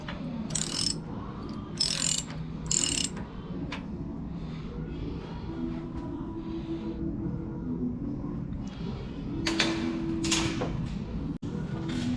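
A Brunswick bowling pinsetter machine runs with rattling, clanking gears and pulleys, a steady mechanical churn punctuated by sharp metallic clicks and bangs at close range.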